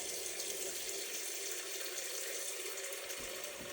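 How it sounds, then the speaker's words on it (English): Tap water runs steadily into a pot of potatoes, a continuous broadband rush that holds level throughout, with a brief change near the end as the stream shifts. "Go ahead and start filling the water up."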